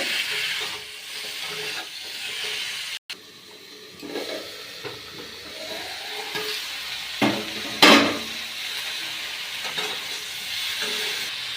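Ground coriander, cumin, turmeric, Kashmiri red chilli powder and salt are stirred in a hot pan and sizzle with a steady hiss. It cuts out briefly near the start, and louder stirring bursts come later.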